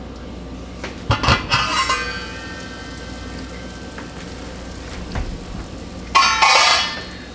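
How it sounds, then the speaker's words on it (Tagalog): Metal lid set onto a cooking pot of simmering pork, giving a couple of close clinks and clatters near the start and another brief rattle toward the end, over a faint steady background. "Tatakpan din natin itong ating cooking pot dahil kailangan nating palambutin pa yung pork dito."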